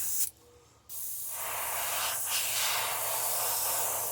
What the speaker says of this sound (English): I'm spraying about 30 pounds of pressure.